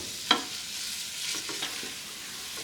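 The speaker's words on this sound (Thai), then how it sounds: "พอ น้ำมันเนยละลาย ก็ใส่หอมแขก จากนั้นก็ผัด" Sliced onions stir-fry in melted butter for a beef stew, giving a soft, steady sizzle with a few light scrapes of a spatula, quiet and close.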